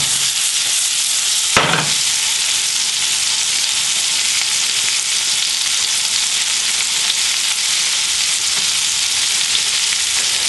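Mushrooms and onions sauté in butter in a pan, a steady loud sizzle that holds evenly throughout with one brief clack of a utensil early on and no talking.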